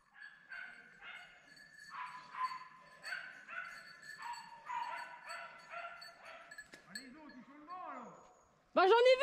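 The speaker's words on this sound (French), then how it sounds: "Les chiens là." Hunting dogs bay in a rhythmic series of repeated, moderately distant barks during a chase, followed by higher whimpering yips and a sudden loud close bark at the end.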